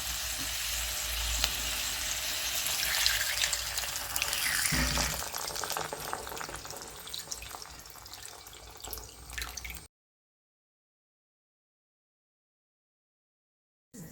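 Rabbit meat stewing in water in a covered pot on the stove, giving a steady, moderately loud sizzle and bubbling hiss that runs unbroken for about ten seconds before cutting to silence.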